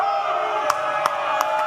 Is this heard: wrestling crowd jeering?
yes